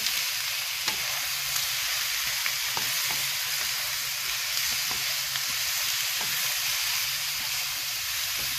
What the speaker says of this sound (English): We're going to crank it all the way up to high, get a nice sear in there